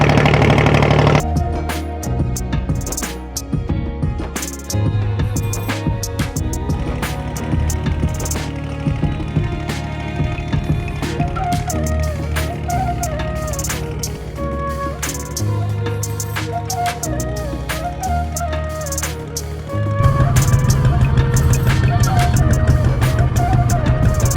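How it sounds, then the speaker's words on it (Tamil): A boat engine drones loud and steady throughout a ferry crossing to Delft Island, with a continuous low rumble that swells louder near the end, mixed with some background noise. "இப்போ அந்த போட்டில் போய் கொண்டிருக்கோம்"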